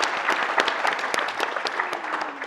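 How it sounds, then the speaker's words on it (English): A crowd at an economic competitiveness forum gives a brief round of applause, a dense, lively clapping that holds steady and dips slightly near the end. "A round of applause for everybody for their time."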